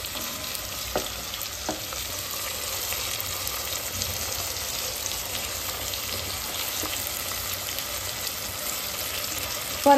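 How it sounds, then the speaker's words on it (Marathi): Onion and tomato sautéing in a home pan for masala rice, giving a steady, continuous sizzle with faint occasional stirring taps, moderately close and with no voices. "आता कांदा टोमॅटो चांगलं मस्तच परतून झालंय"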